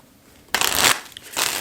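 Two quick bursts of papery riffling, like a deck of cards being shuffled, separated by a short pause; close and fairly loud.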